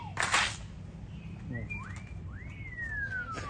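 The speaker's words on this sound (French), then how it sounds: "Alors, il y a un oiseau. Depuis tout à l'heure. Il nous siffle." Bird whistling several rising and falling notes at moderate distance, ending in a long descending whistle, after a short noisy burst at the start, with quiet background hum.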